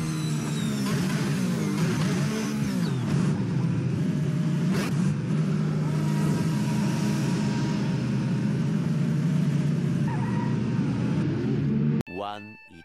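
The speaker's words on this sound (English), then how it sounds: "engine noise" Formula Hybrid race car engine at a 2021 competition, loud continuous droning and revving with rising and falling pitch sweeps, close and sustained, cutting off near the end into a brief different burst.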